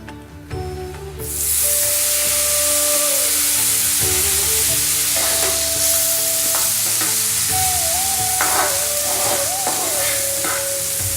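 A turmeric and lemon juice mixture stirred in a hot pan, loud continuous sizzling and frying hiss starting after a quiet first second, with scraping stir strokes and a few tonal whistles over the top, no talk.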